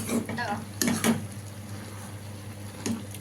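Peanut chikki mixture bubbling and cooking in a pan while being stirred, with a steady low simmer under intermittent scraping strokes and a few brief clatters of the spoon against the pan.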